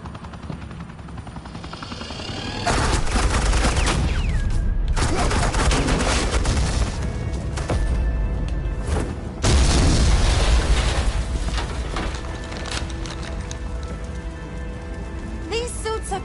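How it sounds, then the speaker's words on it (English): Sustained suppressing gunfire in a Batman video game, loud and continuous bursts with heavy booms, starting abruptly and surging again partway through, layered with rumbling game effects. "Suppressing fire."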